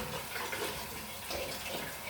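Water pours steadily from a jug into a cooking pot in a home kitchen, a continuous splashing, gurgling flow lasting a couple of seconds with no talking.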